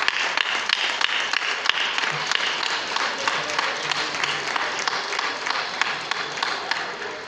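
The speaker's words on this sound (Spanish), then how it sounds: "Este aplauso primero es para vosotros." A crowd at a town festival proclamation in Barruecopardo, Spain, bursts into sustained applause, a bright, busy clatter of many hands with a few sharper nearby claps, steady throughout.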